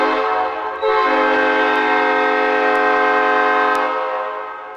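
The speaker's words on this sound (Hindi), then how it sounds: "तो ये एक ट्रेन के हॉर्न जैसी आवाज आती है।" A drinking-straw flute blows one loud, sustained, reedy chord, several pitches at once, that sounds like a train horn and holds for about four seconds before fading.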